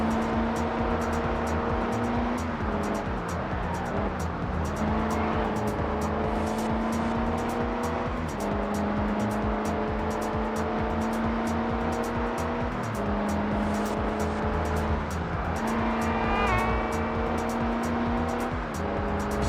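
Upgraded C-Class car racing in Test Drive Unlimited on PS2, its engine droning loudly and climbing in pitch through repeated gear shifts, each dropping the tone before it rises again over about twenty seconds.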